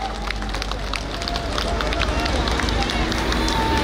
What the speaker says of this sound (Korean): 시민 여러분, 힘찬 박수 부탁드리겠습니다.